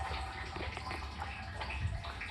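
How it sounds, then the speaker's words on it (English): Water steadily filling a RODI tank controlled by a float-style level sensor and valve, a continuous splashing, gurgling rush close by with no pauses. "As the water comes up and gets to the top of the tank with this sensor"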